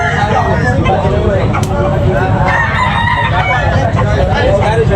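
A rooster crows among fowl offered for sale, its call partly buried under nearly constant talking and background noise, with occasional clucks nearby.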